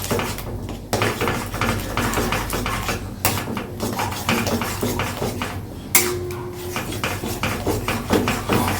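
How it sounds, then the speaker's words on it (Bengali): A spoon stirs food in a metal cooking pot, giving repeated scraping clinks and knocks at an uneven rhythm, close by and fairly loud, with no talk. "একটু নেড়ে দিই মা আস্তে আস্তে।"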